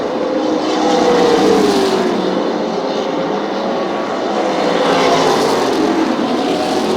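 Stock race cars roar around an oval track in a late-race lead battle, a steady loud engine drone swelling and fading as cars pass, with no talk over it.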